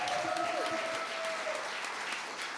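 Church congregation applauding after the music ministry's worship song, a steady wash of clapping throughout with a faint sustained tone lingering underneath early on.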